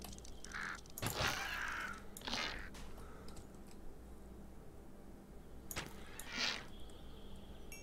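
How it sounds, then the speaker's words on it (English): Ravens caw a few times in a Minecraft modpack game, short rough calls spread over several seconds amid sharp bow twangs and clicks, moderately close with a constant low game hum beneath. "I sort of would like to tame one of the ravens that have white and red on it."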